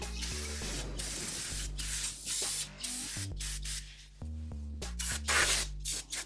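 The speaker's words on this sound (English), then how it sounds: "Spray it real quick." Aerosol brake cleaner sprayed in several hissing bursts onto a car's rear brake assembly, with a steady tonal background running underneath throughout.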